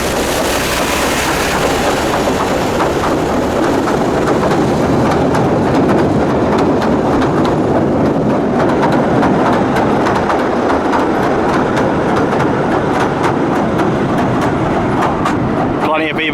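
The Southend Pier train rolls past along the pier with a loud, continuous rumble and rattle of wheels and carriages, staying close and steady throughout.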